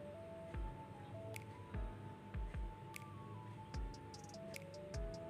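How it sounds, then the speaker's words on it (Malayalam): A spoon stirs custard mix into a drink, giving repeated soft squishy, liquid swirls with occasional light clinks, fairly close and steady, with no talking. "കസ്റ്റാർഡിൻ്റെ മിക്സും കൂടെ ചേർത്തതിന് ശേഷം ഒരു സ്പൂൺ കൊണ്ട് നന്നായിട്ട് ഇനി ഒന്ന് മിക്സ് ചെയ്തിട്ടെടുക്കാം"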